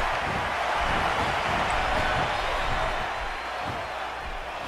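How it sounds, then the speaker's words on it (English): A wrestling crowd at a convention show chants and cheers in a dense, steady roar, with faint rhythmic pulses from the chant and occasional thuds beneath. "The crowd is chanting her name."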